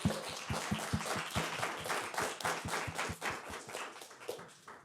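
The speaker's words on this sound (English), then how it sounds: "Can we give another round of applause to these competitors for their beautiful performance?" An audience applauds competitors at the Bales trial advocacy competition, a steady run of dense clapping with sharp individual claps standing out near the front, fading slightly toward the end.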